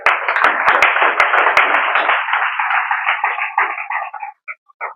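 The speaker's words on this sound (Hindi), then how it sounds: "बहुत बढ़िया ताली बजाते हो" A church congregation claps together in a dense, steady burst that stays loud for about four seconds, then thins into a few scattered final claps.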